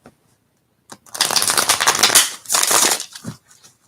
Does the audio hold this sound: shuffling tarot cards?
yes